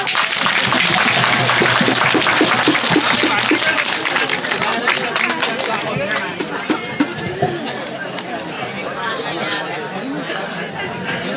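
An audience claps throughout a Balun dance performance, a traditional Nepali folk drama. The applause is loud and sustained, mixed with crowd chatter, and the clapping thins slightly toward the end.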